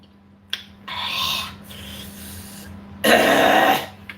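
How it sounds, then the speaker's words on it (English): A person clears their throat after eating 2x spicy noodles. It comes as a short click, a raspy throaty rumble, and then a louder harsh clearing burst, close to the mic. "Let me clear my throat"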